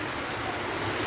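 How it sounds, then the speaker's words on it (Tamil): Heavy rain pouring down during a downpour, with standing water collecting nearby; a steady, dense broadband hiss with no breaks, close and fairly loud, and nobody speaking. "செம்ம மழை."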